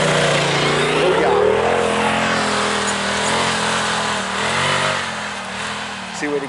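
Loud, sustained engine revving from a 2021 Velocity Turbo S side-by-side on a dirt track, rising and falling in pitch as it accelerates through a corner, with someone talking over it.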